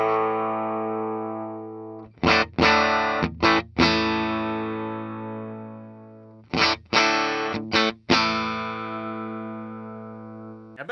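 Distorted chords ring out from the bridge pickup of a 2024 Fender USA Chris Shiflett Telecaster Deluxe, struck in two short bursts of rhythmic hits that each decay into long sustain, loud and close with no talking.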